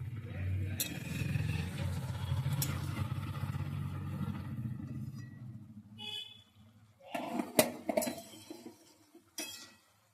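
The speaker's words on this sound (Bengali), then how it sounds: "এরপর আবার ভালো করে নেড়ে নিচ্ছি" Brinjal and cabbage curry being stirred in a pan, with a soft low rumble of cooking followed by a few sharp, scattered clinks and scrapes of the utensil against the pan near the end.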